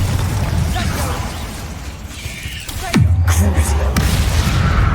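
A fire spell explosion in Hogwarts Legacy, a sudden heavy boom that cuts in over busy game noise and shouting, followed by a deep rumbling tail.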